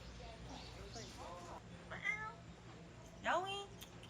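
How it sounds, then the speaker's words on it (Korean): A cat meows several times nearby, soft short mews followed by two louder, sharper calls, while people talk quietly in the background. "야옹이."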